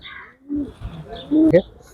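Giribaz pigeons at a pigeon farm in Arabpur, Jessore, giving a short low coo close by, with a faint chirp and a voice briefly around it.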